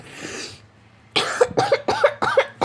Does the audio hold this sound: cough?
yes